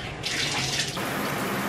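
Water runs steadily from a shower, a brief continuous hiss and splash that swells over the first second, then settles into a lower, even spray.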